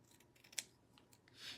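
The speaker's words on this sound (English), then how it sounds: "I don't know why I put those scissors up. I got to trim." Scissors trim small wood kit pieces for a zinnias and dragonflies quilt block, one crisp snip standing out among soft, quiet handling sounds.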